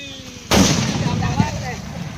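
A Diwali firecracker goes off outdoors with one sudden loud bang, followed by a lingering noisy rumble and crackle, with people audible around it.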